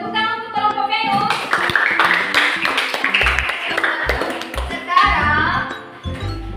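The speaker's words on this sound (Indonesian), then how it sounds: "Tepuk tangan untuk kelompok Venus." Classroom applause for a student group, with scattered, uneven clapping from a small group of pupils in a school room mixed with talking voices and some tapping.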